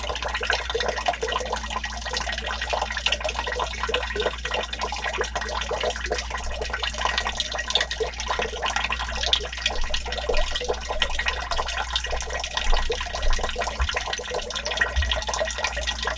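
Water running steadily from an old leaky valve that cannot shut off the water main, a continuous close hiss and trickle with no talk over it.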